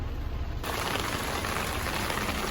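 Steady rain falling and pattering on surfaces, a dense continuous hiss that fills the short stretch evenly and close by, with no voices.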